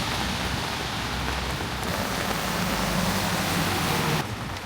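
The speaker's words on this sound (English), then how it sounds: "It's raining." Steady rain pours outdoors at a capybara cafe in Tokyo, a dense even hiss of drops on surfaces that continues throughout, easing slightly at the very end.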